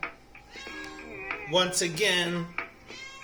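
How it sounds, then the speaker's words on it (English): A pet cat meows several times in the background, wanting to go outside, with drawn-out, rising calls under and between a man's speech. "You could hear my cat in the back saying he wants to go outside."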